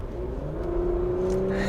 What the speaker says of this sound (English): this is just a great engine. It's smooth, it's balanced, it has a nice clean sound